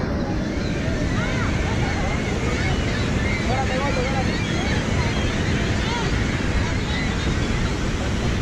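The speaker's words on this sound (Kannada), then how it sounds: "ಸೊ ಅಲ್ಲಿ ಮೇಲಿಂದ ನೀರು ಬೀಳ್ತಾ ಇದೆ." Water plunging over Niagara Falls gives a steady, dense roar that runs unbroken throughout, with wind buffeting the microphone and no pauses.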